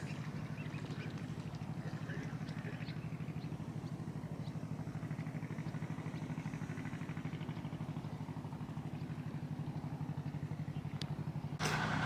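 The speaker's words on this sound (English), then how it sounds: "we've got another working boat going past now" A working boat's engine chugs steadily at a low, constant throb as it passes close by on the Trent and Mersey Canal, unchanging throughout.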